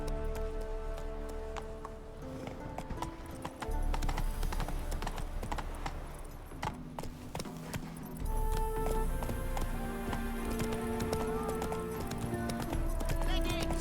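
Horse hooves gallop in The Witcher 3 with a steady rapid clip-clop rhythm under game music, continuing loud throughout with a brief voice calling to the horse.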